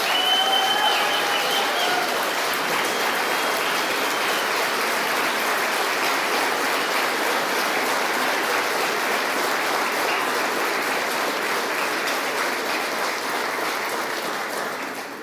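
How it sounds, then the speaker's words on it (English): Loud, sustained applause from a large crowd at a political event venue, welcoming the Second Lady: a thick, unbroken roar of clapping that holds steady, then eases slightly near the end. "A big round of applause for our amazing Second Lady, Usha Vance."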